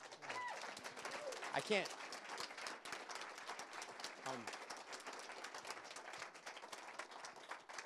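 An audience applauding Dave Zirin after a talk on race in American sports, faint steady clapping from a crowd heard at a distance, with a few voices murmuring over it.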